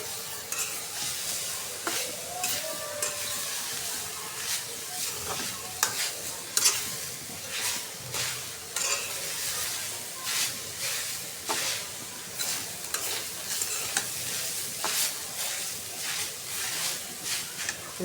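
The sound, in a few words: coconut frying and being stirred in a pan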